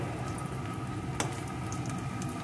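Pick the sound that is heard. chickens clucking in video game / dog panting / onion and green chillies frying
onion and green chillies frying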